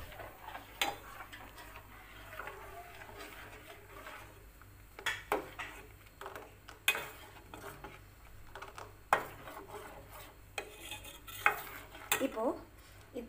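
Ulutham paruppu payasam bubbles in a pot while a spoon stirs it, with scattered clinks and scrapes against the metal over a low simmering hiss. The sounds are close, irregular and come without any talk.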